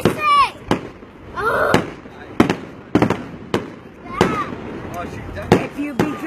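Night fireworks in an old orchard in Maine, with repeated sharp bangs and crackling bursts at irregular intervals, fairly close, while people talk and a voice is heard between the blasts.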